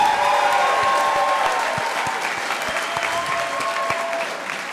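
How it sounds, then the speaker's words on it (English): Spectators at a professional boxing event at a hotel and spa venue in Weston, Florida applaud both fighters after six rounds, with sustained, full crowd clapping and scattered louder claps throughout. "let's have a nice round of applause for both fighters"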